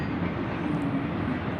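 A train rolls past on the railroad near Ludlow, giving a steady low rumble with faint rhythmic rail clatter throughout a short stretch and no voices.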